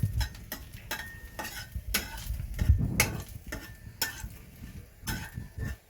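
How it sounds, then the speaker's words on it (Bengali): Three dried red chillies frying in a pan, with soft sizzling under repeated sharp clinks and scrapes of a spoon against the metal, fairly quiet and close. "এবারে 3টে শুকনো লঙ্কা আগে একটু ভেজে নেব"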